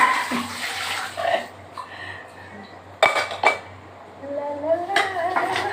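Dishes and cups scrubbed and rinsed by hand with water at a kitchen sink, with scraping, clinking crockery and splashing in irregular bursts, close by, with a voice faintly underneath.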